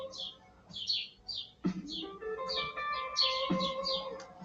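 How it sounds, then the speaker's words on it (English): Small songbirds chirp and tweet outdoors near a home where birds are fed, a run of high, quick calls repeating through the moment at moderate distance, with some low background rumble and knocks. "I got birds chirping in the background too right now."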